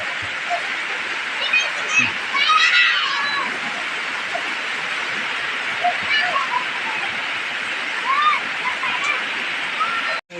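Heavy rain pours down in a storm, a dense, steady hiss-roar that fills the whole clip with almost no let-up, while a voice briefly murmurs beneath it.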